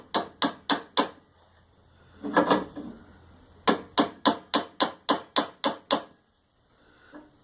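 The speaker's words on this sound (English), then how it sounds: "I hold the heavier hammer towards the back end of the pin, and there's a little lip that sticks out, and you just hit it" A heavy hammer strikes the end of a pin on an antique cast iron Singer White treadle sewing machine caster: a rapid run of five sharp metallic taps, a brief scraping shuffle, then nine more even blows, close and loud.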